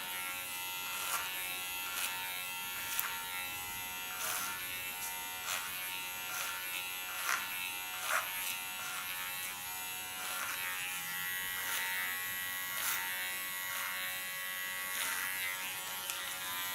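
An electric hair clipper buzzes steadily and close while cutting a man's hair into a classic style, with small clicks and bumps recurring every second or so as the blades move through the hair.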